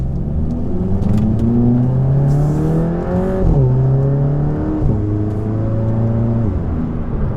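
A car with a DSG dual-clutch transmission accelerates hard, engine note rising sharply then dropping at quick gear changes, repeated several times, loud and close with no voices.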